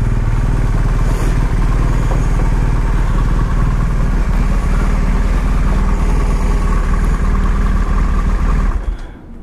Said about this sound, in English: on the clone of Gabe's motorcycle